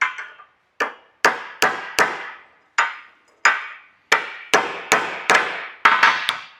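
A hammer taps metal about a dozen times while brake pads are installed, sharp ringing strikes coming in uneven groups, close and loud, with no talking.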